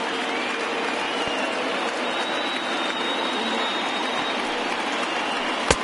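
A baseball stadium crowd of over 39,000 on its feet at the final strike, giving a steady, distant roar of cheering and applause that holds at an even level throughout, with a sharp knock near the end.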